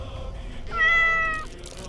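In Baldur's Gate 3, an illusion cat lets out a single clear, drawn-out meow that rises and then fades, heard over a low game ambience.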